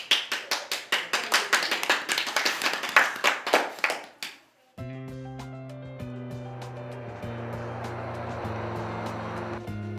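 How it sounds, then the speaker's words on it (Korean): Rhythmic group clapping at a promotional event for farmed carp, a string of sharp, evenly spaced claps that fades out after about four seconds, followed by a sustained tonal drone with sparse taps. "박수! 박수!"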